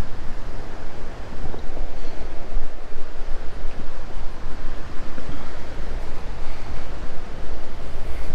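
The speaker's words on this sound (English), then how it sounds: "That's why the water is so turbulent in there right now." Turbulent water churns below a Duke Energy hydroelectric dam, a loud, steady broadband roar of rushing water with wind buffeting the microphone throughout and no voices.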